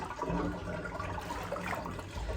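Water drains steadily out of a basin after a cross stitch has been soaked in it with detergent, a continuous close gurgling trickle with no talk.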